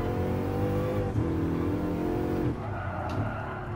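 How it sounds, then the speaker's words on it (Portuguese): Bugatti engine in Gran Turismo Sport revving hard and continuously, with steady harmonic drone shifting pitch midway as the car accelerates, loud and close with no talk over it. "Olha o giro do motor da criança."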